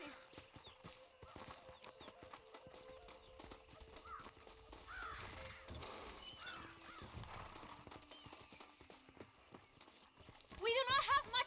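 Steady clip-clop of horses pulling a stagecoach in Red Dead Redemption carries on throughout, with a horse whinnying near the end, set among game-style ambient sounds.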